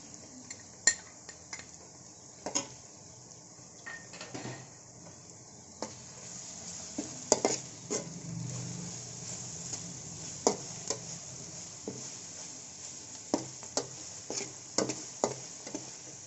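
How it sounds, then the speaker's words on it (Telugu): Onions and green chillies fry with ginger garlic paste in a pan, a faint sizzle under repeated sharp clinks and scrapes of a metal spoon stirring, no voices. "ఉల్లిపాయలు పచ్చిమిరకాయలు ఇలా బాగా వేగాలండి ఇప్పుడు అల్లం వేద్దాం అల్లం వెల్లుల్లిపాయలు పేస్ట్ వేద్దాం"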